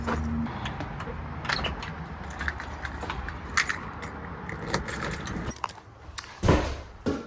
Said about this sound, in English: Let me get my keys out.